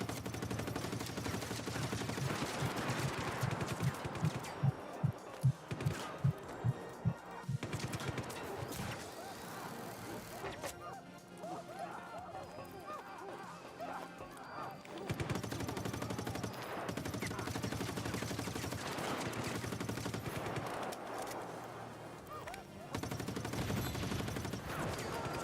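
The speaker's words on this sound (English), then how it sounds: "Guy's got a minigun down there." A minigun fires in a video game as a rapid rattling burst among other gunfire and explosions, loud and sustained over a noisy battle backdrop, with voices talking over it.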